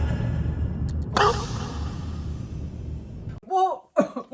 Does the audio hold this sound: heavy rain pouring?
no